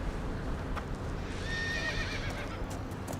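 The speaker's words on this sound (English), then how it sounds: "Is that a horse?" A horse whinnies in a long, quavering neigh against steady background rumble and faint hoof-like knocks, moderately close.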